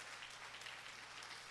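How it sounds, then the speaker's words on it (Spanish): A church congregation applauds during a Spanish-language family worship service, producing a faint, steady burst of clapping with no voices over it. "Dale un aplauso al Espíritu Santo de Dios."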